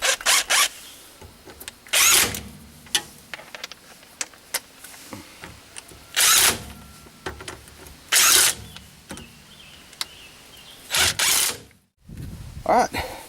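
A cordless power tool runs in brake caliper bolts during a Volkswagen disc brake conversion. It gives several short, close whirring and ratcheting bursts separated by pauses and small clinks of metal parts.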